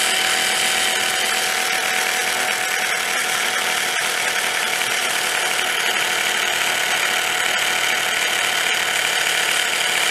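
A gyroscope gimbal spins at about 6,500 RPM on a self-balancing two-wheeler, giving a loud, steady, mechanical whine with rattly vibration that holds constant throughout, with no talking.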